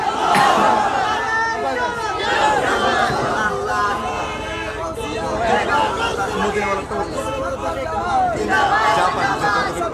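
A crowd at an Islamic religious gathering (mahfil) in Dohazari, Chattogram roars a loud, sustained collective takbir response, many voices shouting together for the full stretch with a steady babble underneath.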